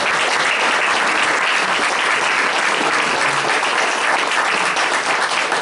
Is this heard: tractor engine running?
no